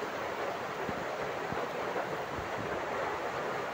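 Floodwater from heavy monsoon rain in Malvan surges forcefully through a residential compound after overflowing from next door, a steady loud roaring wash of water with no break.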